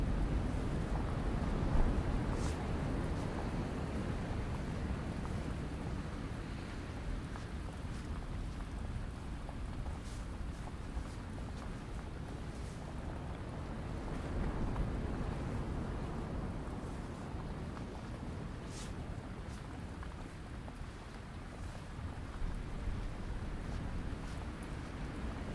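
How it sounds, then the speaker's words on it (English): Steady broadband roar of a storm at sea, with gusting wind and rain blending with surf into a continuous wash that swells slightly at times, no voices. "the wind has begun to pick up, saline micro-droplets peppering your face, and the occasional drop of rain, the sounds of the storm closing in"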